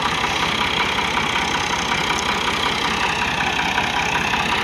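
A Massey Ferguson 260 tractor engine idles steadily near sugarcane loading beside a truck, a loud continuous rumbling chug with no break across the whole clip.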